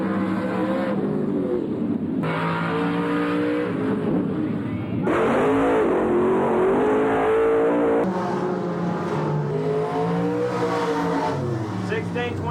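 Dirt-track race cars with 350 engines on a red clay oval roar and rev, the engine note rising and falling as cars circle, fairly loud and continuous, with people talking over it.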